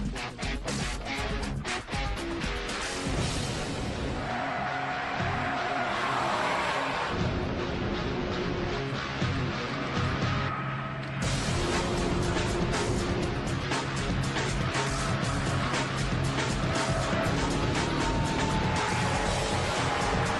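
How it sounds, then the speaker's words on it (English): A BMW 6 Series engine rumbles steadily and close up for the whole stretch, a dense, continuous drone with a brief dip in the middle. "the rumble of the engine"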